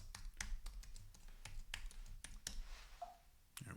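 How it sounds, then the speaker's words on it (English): Someone types a password on a Mac keyboard: a quick run of crisp, close key clicks in an uneven rhythm, with a pause near the end before the final presses. "Type in my password."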